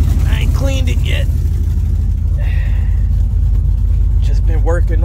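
A cammed Ram truck engine idling with a deep, steady, loping rumble that runs the whole time, while someone talks over it now and then.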